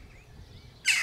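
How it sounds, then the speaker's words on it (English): A baby crow gives a single loud, harsh caw close by, cutting in near the end after a quiet stretch. "It's a baby crow, and it's walking around my picnic table making a great deal of noise."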